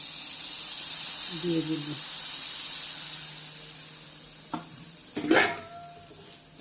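Rice flour batter for chitoi pitha hisses on an oiled clay griddle, a steady close sizzle. It swells into a louder spitting burst near the end, with a brief spoken voice partway through.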